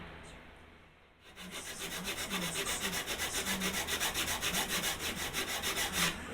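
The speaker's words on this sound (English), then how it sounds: "Because it is sanding, and then you hit a spot, and then it's just hard as hell." Old, very hard wood is sanded with fast, even back-and-forth strokes that make a loud, close, rhythmic rasping. A short quiet pause comes before the steady strokes begin.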